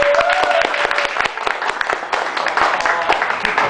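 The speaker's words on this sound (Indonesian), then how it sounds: "Tepuk tangannya sekali lagi" Audience applause at an open mic comedy night, dense clapping filling the whole stretch with a voice talking over it at the start.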